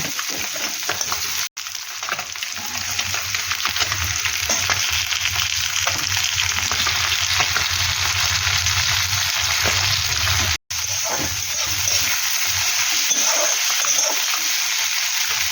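Onions and slit green chilies fry in hot oil with panch phoron as they are stirred for a fish curry, giving a loud, steady sizzle broken by two brief gaps.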